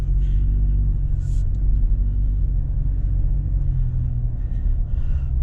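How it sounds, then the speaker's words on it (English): A truck carrying a Factory Five kit arrives, a loud, steady low rumble throughout with faint higher engine whine above it. "I just saw the truck. It's here."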